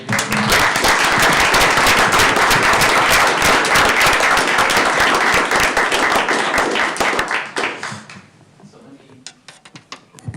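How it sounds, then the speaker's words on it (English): Audience applause at a city council meeting in Midvale City: a full round of clapping that holds steady for about eight seconds, then thins out to a few last scattered claps. "let's give Glenn a round of applause."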